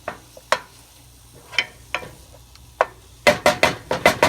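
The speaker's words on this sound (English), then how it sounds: "I'm going to also cook up a piece of sausage" A piece of sausage cooks in a pan over a medium flame, with scattered utensil taps and scrapes and a soft sizzle, ending in a quick run of close clatters; no one speaks.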